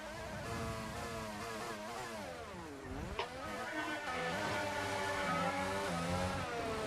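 High-pitched Formula 1 car engine in a video game, revving and shifting up and down in pitch, loud and continuous with no voices.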